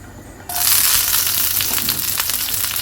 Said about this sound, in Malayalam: വെളിച്ചെണ്ണ ചൂടാക്കിയിട്ടുണ്ട് അതിനകത്തേക്ക് കുറച്ച് പെരിഞ്ചീരകം ഇടുക ഒരു നുള്ള പെരിഞ്ചീരകം ഇട്ടാൽ മതി എന്നിട്ട് അതിലേക്ക് കുറച്ച് പച്ചമുളക്